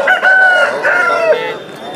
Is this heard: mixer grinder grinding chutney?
no